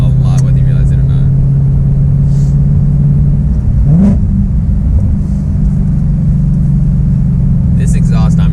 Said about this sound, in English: So with the active exhaust, it does not sound like the normal exhaust at all.